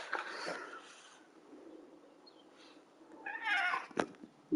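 A cat named Shadow meows, one drawn-out meow at the start and another louder one near the end, with quiet rustling and faint handling noise between them.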